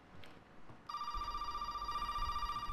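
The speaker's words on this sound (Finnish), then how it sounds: "Ja puhelin soi!" An electronic telephone ring in the horror game Resident Evil 7 starts abruptly after a quiet moment and continues as a sustained, trilling tone over low background rumble.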